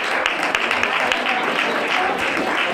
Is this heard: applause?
yes